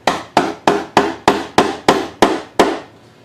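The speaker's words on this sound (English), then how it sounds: "I'll just come in with the chisel, reference off those already squared straight walls" A chisel struck with a mallet while squaring mortise corners against a guide jig on a Roubo workbench, nine sharp, evenly spaced close blows that slow slightly toward the end.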